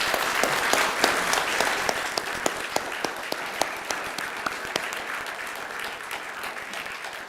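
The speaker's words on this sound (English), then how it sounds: "Let's give Andrew a round of applause." An audience applauds speaker Andrew at the close of an evening talk on science and God, steady clapping from a roomful of people that slowly thins over several seconds.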